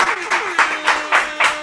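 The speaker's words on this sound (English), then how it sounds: "Let's clap it up for that." Several people clap along together in a podcast-style conversation, giving about five or six evenly spaced bursts of moderately loud claps over a low background.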